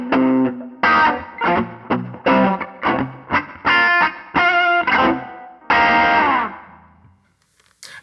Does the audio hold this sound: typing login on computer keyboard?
no